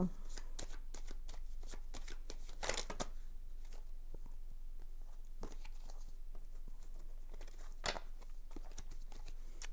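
A deck of divination cards being shuffled by hand at close range, with a steady run of soft riffling patter and a few sharper snaps. The shuffling goes on for the whole stretch.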